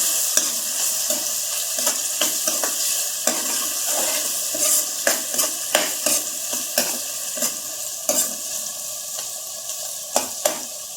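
Onions frying in a pan with turmeric powder for Paruppu Urundai Kuzhambu, a steady close sizzle broken by repeated scraping stirs of a spoon against the pan, no voices.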